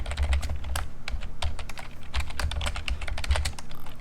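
Keys rattle fast and steadily on a computer keyboard while JavaScript code is entered, dense irregular clicks packed across the whole stretch, close and clear with no voices.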